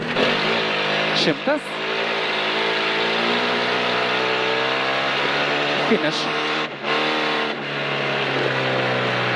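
A Porsche 944 rally car engine roars loud and close from onboard on a rally stage, holding a steady high drone with brief rev changes throughout, while a voice calls out over it.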